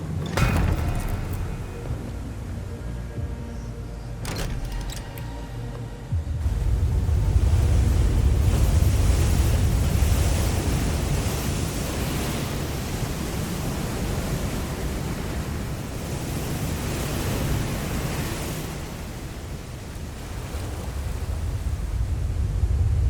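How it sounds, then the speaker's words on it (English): Waterfall in Hell Is Us, a dense roaring rush of water that surges louder partway through and then holds steady as a thick, harsh wash of noise with no voices. "Every time we walk past a waterfall, it causes our audio to, like, sound, like, absolutely fried"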